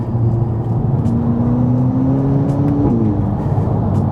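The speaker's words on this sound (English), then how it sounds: "I'm trying to get some noise out of that exhaust" A VW Polo GTI engine drones steadily up close, its pitch climbing smoothly through a rev before dropping back, with a constant exhaust hum throughout and no talk.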